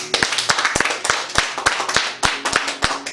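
A church congregation at a prayer meeting claps loudly together, a dense run of sharp, close hand claps with an uneven rhythm and no talk over it.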